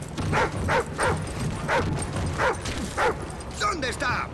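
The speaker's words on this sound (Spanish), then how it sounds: "¡Llévese este perro de aquí!" Repeated dog barks and yips from a Call of Duty Ghosts game dog ring out in a steady rhythm, about seven in a row, close and loud, with voices talking around them.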